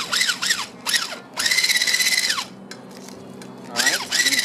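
Electric mixer whipping cashew cake batter, whining in bursts that rise and fall in pitch as the speed changes, loud and close with short pauses between runs.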